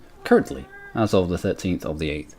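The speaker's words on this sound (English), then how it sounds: "And that's my cat in the background." A domestic cat meows once in the background, a short tonal cry near the start, before someone talks steadily over quiet room sound.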